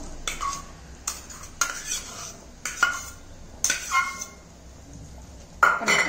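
Ground chickpea masala being mixed in a cooking pan for chole: several separate bursts of spoon scraping and clinking against the pan, with quiet gaps between strokes and no voices.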